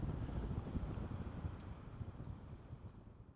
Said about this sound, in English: it's a bit too windy